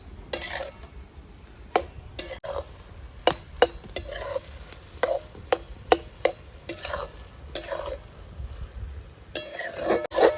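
Grated bottle gourd being sautéed in ghee for lauki halwa, with a utensil scraping and clinking against the pan in steady irregular strokes over a soft background sizzle; no one speaks.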